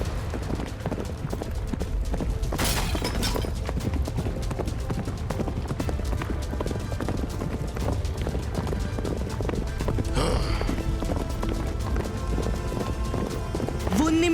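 Several horses run, their hooves drumming in a fast, unbroken clatter that stays loud and near throughout, with occasional brighter bursts layered over the galloping.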